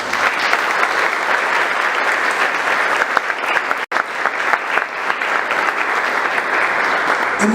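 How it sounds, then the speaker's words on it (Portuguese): Loud, sustained applause from a church congregation during a Sunday worship service, clapping in praise of Jesus; a thick, continuous roar of many hands, broken by a single brief dropout midway. "Só quem crê, aplauda o Senhor Jesus."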